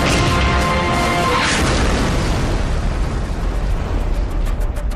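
A tank cannon fires with a loud, close blast, and a heavy broadband rumble sustains and rolls on for several seconds without fading much.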